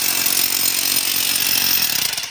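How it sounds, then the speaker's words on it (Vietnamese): A power drill breaks up material at a rural farm after morning rain, giving a loud, steady high-pitched whine that runs close and continuously, then drops off at the end, with no talk over it. "Nhưng mà phải có cái máy khoan này thì mới phá được."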